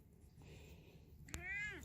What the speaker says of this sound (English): Such a tiny meow out of such a big boy.